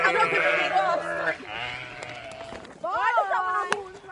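Sheep bleat loudly and close by on an outdoor walking expedition, several wavering calls in a row, with people talking and laughing over them.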